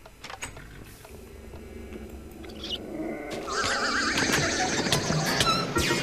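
A horse in Minecraft, modded with TechnicPack, whinnies amid busy game noise, with clip-clop hooves and a rising, denser wash of sound in the second half.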